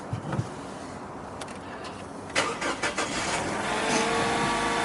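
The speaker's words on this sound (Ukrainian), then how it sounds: "Так, пацани, машина заводиться." A Lexus IS 200t F Sport cranks with a few sharp bursts, then its engine catches and settles into a steady, close idle rumble.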